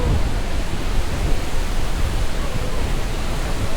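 Lower Yosemite Falls roars as a dense, steady wash of falling water on a windy, crowded trail near the base, loud and continuous with no breaks.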